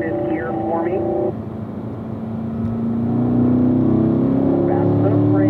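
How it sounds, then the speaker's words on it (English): A Corvette on a race track at a driving school, engine droning steadily and loudly as it changes up into fifth gear, the pitch dipping at the shift and then climbing again as it pulls on. "Go ahead and shift it up to 5th gear for me."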